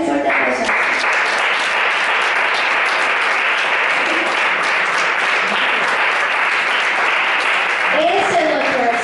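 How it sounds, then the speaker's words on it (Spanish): A congregation applauds loudly during a Spanish-language Sunday school church service, with sustained, dense clapping throughout and a voice briefly audible at the start and end. "Dale un fuerte aplauso."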